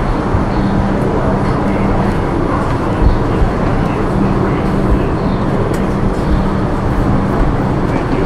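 A New York City subway train at Grand Central station produces a loud, continuous rumbling roar with steady rattling and screeching, a dense, unbroken mechanical wash of noise with no clear pauses.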